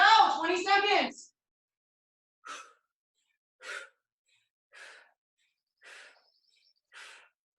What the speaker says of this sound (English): Couple deep breaths. Pay special attention to the exhale.